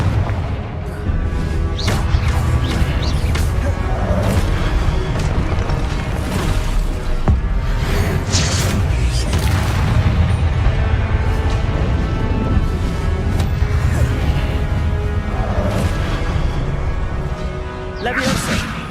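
Loud, continuous booms and crashing blasts from Confringo fire spells and other combat magic in the Hogwarts Legacy video game, dense and layered under game sounds and voices throughout.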